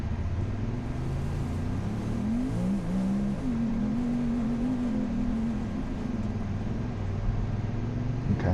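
A Honda Talon i4WD UTV engine labors up a steep hill in Azusa Canyon, holding a loud, close, continuous drone whose pitch rises and wavers as the throttle works, heard alone.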